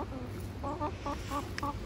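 Several hens cluck in short bursts inside a hen house, close and fairly quiet, with a steady low background murmur.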